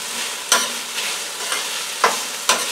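Cabbage sizzles steadily in a hot wok for vegetarian Chinese fried rice, with four sharp scraping stir strokes cutting through the close, continuous frying hiss.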